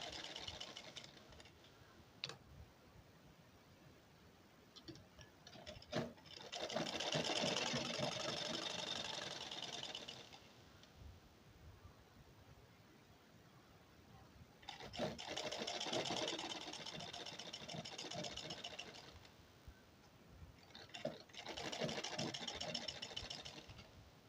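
A sewing machine runs stitching the lining of a blouse, with three sustained bursts of steady mechanical whirring separated by quieter pauses filled with faint handling noise.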